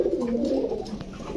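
A Rampuri pigeon coos close by, a low, rolling, throaty call that runs steadily through the short moment.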